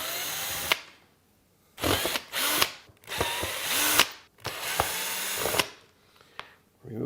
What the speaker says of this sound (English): I'm just going to use my screw gun. It's a Phillips tip, just for quickly removing these screws.